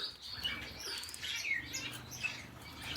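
Soft, high chirps and tweets from Gouldian finches in a home aviary, faint and scattered, with a light flutter of wings.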